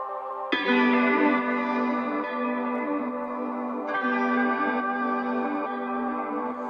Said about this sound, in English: And I found another guitar.